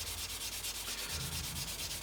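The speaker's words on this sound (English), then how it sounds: "we'll just keep sanding gently with a sponge" A sponge sands a Revell 1/32 Messerschmitt Bf110 C-2 plastic model kit, giving a steady, close, rhythmic rubbing hiss that repeats in quick even strokes without any talking.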